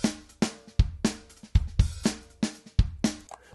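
A simple, plain drum loop plays alone with a steady repeating beat, sharp percussive hits roughly every half second and deeper kick-like thumps falling between them.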